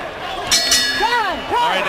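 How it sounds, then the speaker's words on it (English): A boxing ring bell ends a round in a pro fight, striking twice in quick succession and leaving ringing, wavering metallic tones over crowd noise and commentary. "That bell hits, you don't hit."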